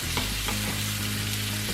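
Garlic chips sizzling in oil in a pan with a few scraping stirs, a steady close frying hiss throughout with no talk.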